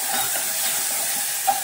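Drumstick and tomato curry frying in a pan, a steady broad hiss and sizzle close up with no talk, one small pop near the end.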